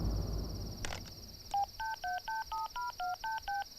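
Telephone redial, a click followed by a quick series of about a dozen clear DTMF beeps as the number is dialed automatically, heard close and alone.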